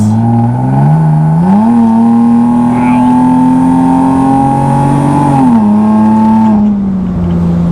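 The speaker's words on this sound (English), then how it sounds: "We'll do a little bit of an acceleration actually in automatic to see what it's like." A loud 400 WHP supercharged Nissan 370Z engine revs up through the gears in automatic, pitch climbing steadily, dipping at a shift, then climbing again before easing off.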